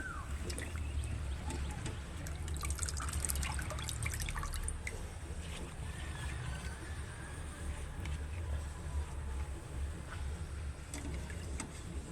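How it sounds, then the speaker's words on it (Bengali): Potatoes for homemade chips go into a pot of water with light splashes and drips, followed by a continuous low watery wash in a kitchen. "এইভাবে সব আলুগুলো জলের মধ্যে দিয়ে দিলাম।"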